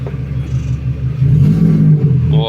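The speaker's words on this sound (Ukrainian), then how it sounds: "Щось шумить з вихлопними газами, з вихлопною системою." A Citroen Xsara's engine revs up from idle to a louder, rough roar, with a rumbling, noisy faulty exhaust system droning underneath. Nobody speaks.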